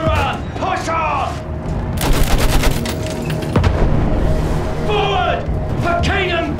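World War I machine-gun fire and explosions in the video game Battlefield 1 come as a dense, loud burst of rapid shots and booms, framed by shouted voices before and after.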